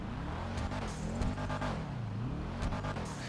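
Engine of a Karin Sultan RS Classic, a Subaru Impreza 22B-styled car in GTA Online, humming steadily at close range with its pitch rising and falling as it revs, alone with no talk.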